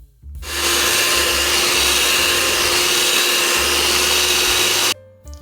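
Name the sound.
hand mixer mixing cream cheese icing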